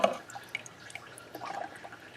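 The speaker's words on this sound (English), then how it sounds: "you can hear the oil kind of just dribbling out" Engine oil from a Kia Sorento 3.5 V6 dribbles out of the oil filter housing, making faint, sparse drips and a soft trickle close by in an otherwise quiet space.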